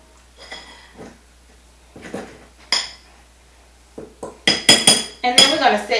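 Close utensil clinks and scrapes against a bowl while flour and salt are mixed for oatmeal raisin cookies, sparse at first and then a quick busy flurry, with a bit of talk between.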